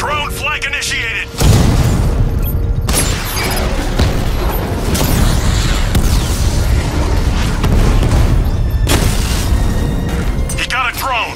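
Heavy booms and crashing blasts from a drone being struck in Batman: Arkham Knight, bursting in loud and continuing as a dense, rumbling barrage, with shouted voices over the din.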